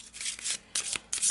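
Quick papery riffling bursts of a deck of Arkham Horror game cards being shuffled, three or four short rasping pulses close by.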